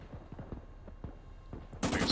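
Gunfire in the World War II mission of the video game Arma 3, a string of faint distant shots in uneven bursts, followed by a sudden loud burst of noise at the end.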